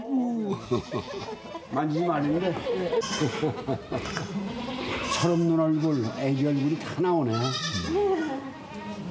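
Three-day-old black goat kids bleat loudly and repeatedly up close, their wavering cries overlapping with people talking nearby.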